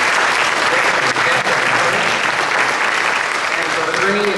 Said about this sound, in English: Let's give our panelists another round of applause for your great questions.